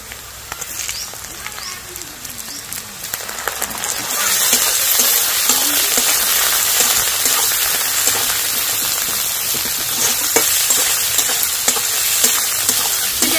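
Chicken pieces frying in a pan with onions, a steady dense sizzle that jumps louder after a few seconds as the pieces hit the hot oil, close and continuous with no talking.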